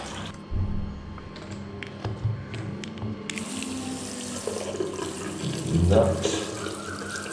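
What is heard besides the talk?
water rinsing a K&N air filter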